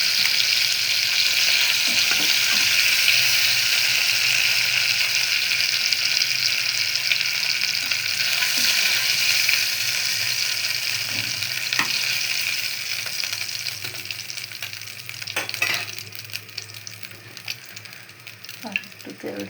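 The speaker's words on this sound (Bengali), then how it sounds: "মাছগুলো ভেজে নিয়েছি, এখন তুলে নিব।" Fish pieces lightly frying in hot oil give a loud, dense, continuous sizzle up close, easing slightly later on as a few utensil clicks and scrapes cut through, with no voices.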